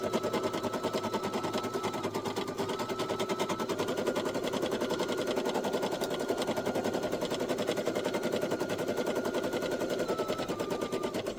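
A Brother SE1900 embroidery machine stitches a coffee coaster with a fast, steady mechanical rattle and a faint whine, loud and close throughout as the thread nears a jam.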